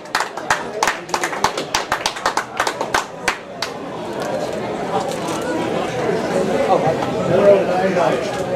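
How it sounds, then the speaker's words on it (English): Scattered claps from a raffle audience, a run of sharp separate hand claps over the first few seconds, then fading into a steady murmur of crowd chatter and voices in a resort hall. "Round of applause."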